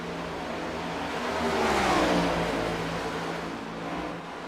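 Stock race cars in a Next Gen series race at Chicagoland, engines whirring from a distance, swelling as a car passes by mid-clip and then fading to a steady far-off drone.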